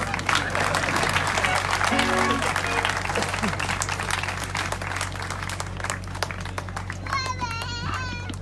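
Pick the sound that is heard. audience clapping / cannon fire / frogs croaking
audience clapping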